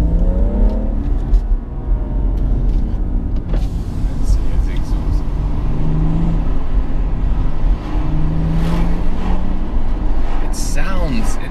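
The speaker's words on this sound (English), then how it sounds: "It sounds more normally aspirated than the 135" A BMW M140i with a turbocharged engine drives along, its engine and exhaust producing a steady, continuous drone with rising and falling pitch as it accelerates, heard from inside the cabin.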